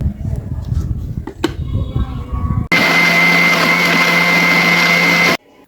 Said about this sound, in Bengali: এখন ব্ল্যান্ডার জগের ডাকনাটা দিয়ে ব্ল্যান্ড করে নেব সুন্দরভাবে